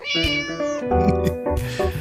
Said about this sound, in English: A meow echoed as the kitten responded